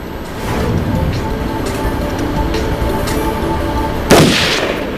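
A single gunshot is fired at a target, a sharp loud crack that rings out near the end after several seconds of steady background hum.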